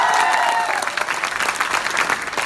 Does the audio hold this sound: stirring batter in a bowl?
no